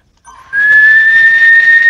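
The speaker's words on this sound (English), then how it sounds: "Stop whistling. Right, it's annoying." Whistling inside the video game Fortnite prop hunt: one loud, sustained high whistled note rises briefly, then holds steady, alone with no talk.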